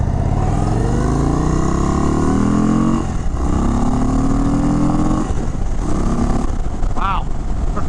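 An Indian Chief Sport V-twin motorcycle rides along, its engine rising in pitch through several gear shifts under a steady rush of wind, while the rider talks briefly.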